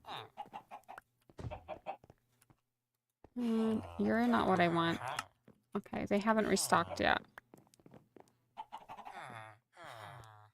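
Chickens in a Minecraft world give several short clucking bursts between quiet gaps, moderately loud, while a person talks over and around them.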